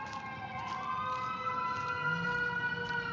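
Ambulance siren passing on a street by Audubon Park in New Orleans, a steady wailing tone held near and loud over the whole stretch with no talk.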